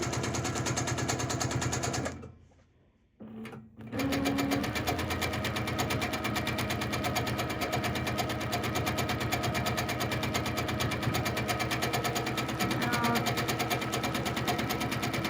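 A sewing machine running steady, fast stitching for free motion quilting, loud and close, with one brief pause about two seconds in before the rapid needle rhythm resumes for the rest.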